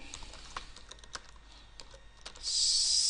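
Quick, irregular clicks of typing on a computer keyboard, close and fairly quiet, ending in a brighter burst of noise.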